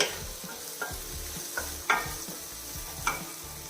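Chopped tomatoes sauté in a pan over a medium flame, a low steady sizzle broken by several sharp scrapes and taps of a spoon stirring against the pan, close up with no talk.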